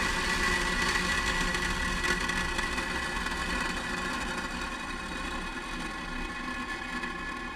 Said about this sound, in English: 4, 3, 2, 1, ignition. We have liftoff.